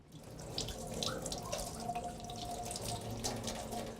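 Lobster tails rinsed under a running kitchen tap, a steady close stream of water splashing in a sink for the whole stretch with no voices.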